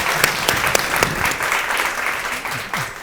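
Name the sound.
audience applause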